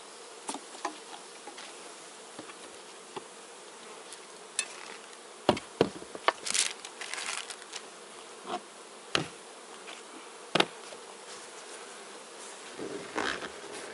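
Honey bees buzz around a hive during a formic acid mite treatment as they stream out, with a steady insect drone and sharper close fly-by buzzes throughout.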